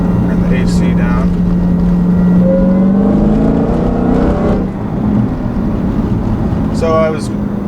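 A 2016 Dodge Challenger Hellcat with a six-speed manual pulls wide open in second gear: a loud, steady engine drone heard from inside the car, its tone climbing as it accelerates.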